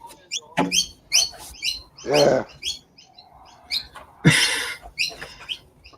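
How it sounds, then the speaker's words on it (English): Loud bird calling outdoors near crows and farmland: repeated sharp chirps and harsh squawks in irregular bursts, close and prominent, with a brief spoken word in between. "That bird loud enough for you, or what?"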